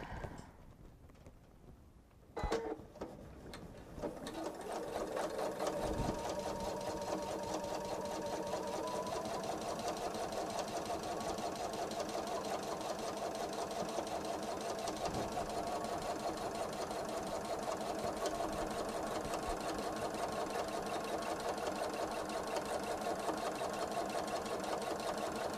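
A sewing machine stitches a seam on a quilted tote, starting with a few clicks and then running in a steady, fast mechanical whir for over twenty seconds at close range with no talking.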